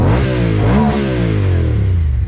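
Leaf blower small engine idling with a rattly, uneven note after warming up; loud, close, continuous droning hum with a slight rise in pitch partway through.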